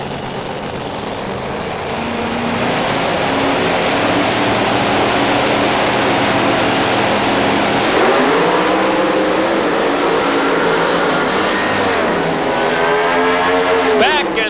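Drag racing cars at a 1994 NHRA sportsman event in Houston, Texas, roar off the line and scream down the strip, a loud sustained engine wail that rises and sweeps as they pass, with an announcer talking over it.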